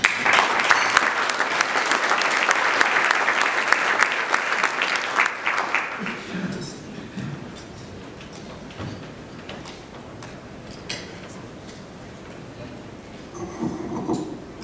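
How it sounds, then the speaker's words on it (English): An audience at the 2014 Cyber Security Hall of Fame ceremony applauds loudly for about six seconds, then the clapping dies away into a quiet room with faint shuffling and a few scattered sounds. "let's give a round of applause for Chris Morrow, accepting the honor for Vinton Cerf"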